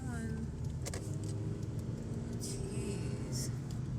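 A car's low engine rumble fills the cabin steadily and loud throughout, with faint clicks and jingles over the top and a voice talking briefly.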